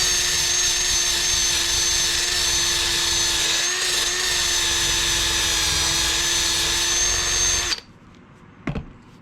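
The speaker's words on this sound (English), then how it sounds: "Wire wheel just like this." A wire wheel spins steadily on a power tool, cleaning the screw and guide bar of a Craftsman 5243 bench vise. It gives a loud, continuous whine with a scratchy, brushing rasp, then cuts off abruptly, and a brief clunk follows in the quiet.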